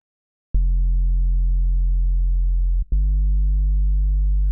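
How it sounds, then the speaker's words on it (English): A deep, steady Sylenth1 synth bass tone sustains for about two seconds, cuts off briefly, then sounds again, clean and loud with no other sounds. "That's our bass sound."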